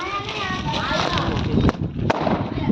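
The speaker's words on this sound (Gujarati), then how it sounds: "તો અમારા ફટાકડા ફૂટે છે" Two sharp firecracker bangs go off in quick succession toward the end, cutting through continuous nearby talk and street chatter.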